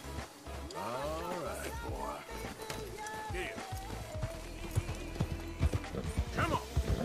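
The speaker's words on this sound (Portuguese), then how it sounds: "Seu cavalo está agitado devido a um predador." Galloping hoofbeats with a horse's whinnies and snorts, heavy and close, over a low rumbling backdrop and scattered voices; a horse in Red Dead Redemption 2, agitated by a nearby predator.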